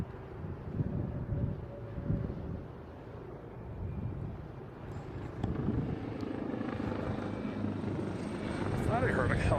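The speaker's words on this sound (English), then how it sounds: "I thought I heard a helicopter." A helicopter near Boston Logan International Airport, a low, steady rotor thrum heard at a distance under wind on the microphone, with voices talking over it.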